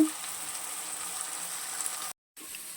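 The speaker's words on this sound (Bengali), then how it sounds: "আমার আলু আর কচু লাল লাল করে ভাজা হয়ে গেছে" Potatoes and taro frying in hot oil for a hilsa fish curry, a steady continuous sizzle with a soft bubbling crackle, close and fairly quiet, cut by a brief silent gap near the end.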